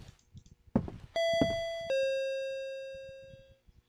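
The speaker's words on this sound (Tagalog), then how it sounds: "Doorbell." A doorbell in the Japanese horror video game Akai Onna rings out with two clear chimes, the second tone ringing and slowly fading, preceded by a soft thunk and faint footsteps.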